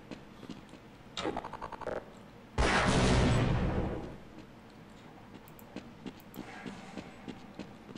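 Tram riding along rails in the video game Half-Life, a loud sustained rumbling roar swelling in then fading over about two seconds, preceded by a short rattling burst and followed by quieter scattered game sounds.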